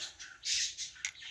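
Outdoor birdsong with short chirps and squawky calls, fairly faint, in a few bursts across a quiet background where rain is also falling.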